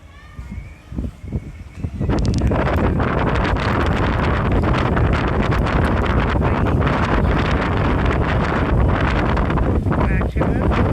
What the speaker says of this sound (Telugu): మీకు ఈ గాలి కూడా వింటే అర్థం అవుతుంది